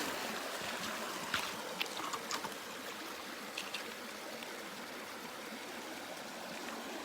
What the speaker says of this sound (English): wild running water.